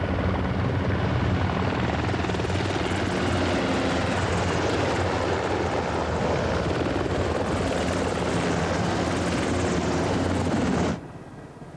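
A military helicopter flying close and loud, its dense rotor chop and turbine roar continuous for about eleven seconds before abruptly cutting off.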